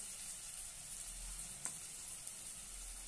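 Turmeric, red chilli powder, salt and kala masala sauté in a pan for a ridge gourd dish, giving a soft, faint, steady sizzle with a couple of tiny ticks and no talking.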